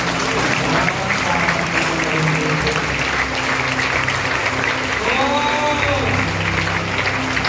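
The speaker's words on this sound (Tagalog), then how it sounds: "Magkaisa nga po tayong pumalakpak sa isang Diyos." A church congregation in Bunlo, Bocaue, Bulacan claps together in praise to God during worship, a sustained, even roar of hands with faint vocal tones drifting over it.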